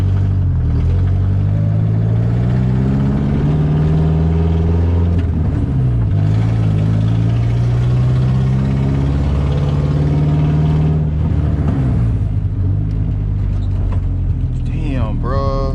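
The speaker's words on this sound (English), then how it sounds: "I heard like a different tone and like the sound of my car" A car engine with an unusual, off tone is heard from the driver's seat on the road: a loud, continuous droning hum that slides up and down in pitch, with voices over it.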